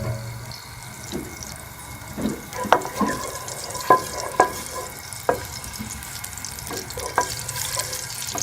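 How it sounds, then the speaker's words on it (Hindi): Ghee melts and sizzles in a kadai, with a soft frying hiss beneath intermittent clinks and scrapes of a utensil against the pan, close and moderately loud. "कढ़ाई में हम घी डालेंगे। घी को मेल्ट होने देंगे।"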